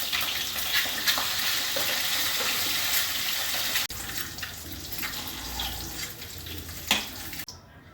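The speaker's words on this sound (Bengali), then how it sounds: "প্রথমেই আমি ডিমগুলো ভেজে নিচ্ছি" Eggs frying in a pan with turmeric in a home kitchen, a loud continuous sizzle with occasional stirring scrapes and a brief tap-water splash, close up and without talk.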